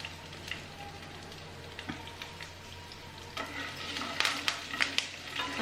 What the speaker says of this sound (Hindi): अब सबको हमें एक साथ फ्राई करना है।